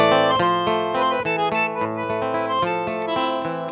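Opening of a classic tango, with full, sustained, reedy chords and a steady pulse playing loud and continuous, with no singing yet.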